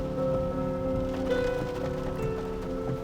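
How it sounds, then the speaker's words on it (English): Heavy rain pours steadily in Mumbai, a dense continuous wash of drops drumming on surfaces, loud and unbroken, with a sustained tonal hum layered underneath. "it's raining like mad"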